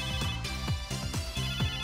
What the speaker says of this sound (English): It's my end gear ringtone.